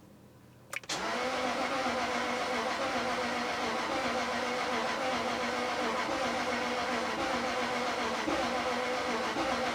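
A Jaguar XJ 4.0 V8 with a crank-no-start fault turns over on the starter after a sharp click, a steady whirring drone that carries on without the engine catching.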